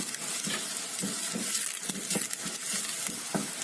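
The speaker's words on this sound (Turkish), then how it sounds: "Etimi de rengi tamamen dönünceye kadar kavuruyorum." Meat sautéing with onion in a hot pan for an İspir bean stew: a steady, close sizzle broken by repeated scraping stir strokes, with no voices.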